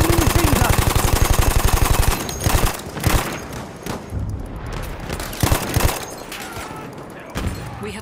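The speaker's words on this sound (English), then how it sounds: "Enemy machine gun!" An enemy machine gun firing in the World War I shooter Battlefield 1, a loud rapid, evenly spaced burst of shots for about two seconds, then scattered single heavy gunshots and impacts across the battlefield.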